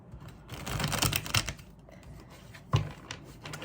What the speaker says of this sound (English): Let me shuffle 3 times.